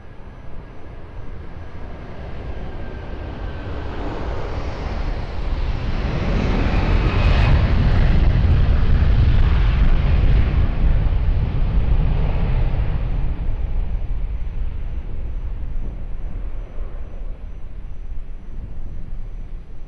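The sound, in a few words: airliner taking off at Lisbon Airport, runway 20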